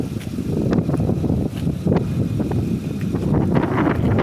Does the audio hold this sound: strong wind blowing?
yes